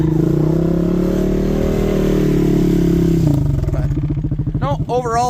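An old Honda motorcycle engine hums and labors steadily while riding through soft dirt ruts, then breaks into a throbbing, uneven chug near the end as a voice talks over it.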